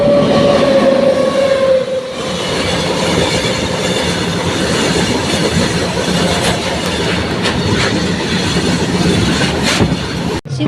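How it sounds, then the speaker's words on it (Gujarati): A train rolls past loudly and close on the railway tracks, a steady rumbling clatter of wheels with a brief squeal early on, filling the whole stretch without talk. "ટ્રેન પણ આવેરી છે"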